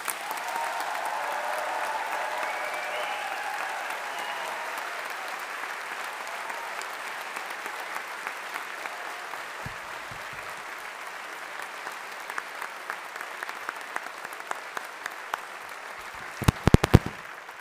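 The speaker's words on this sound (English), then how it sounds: "let's give this class of 2025 a big round of applause" Sustained applause from a large audience for the class of 2025 at a Strathclyde university graduation ceremony for Humanities and Social Sciences, steady dense clapping filling a big hall, thinning toward the end with a few louder claps near the close.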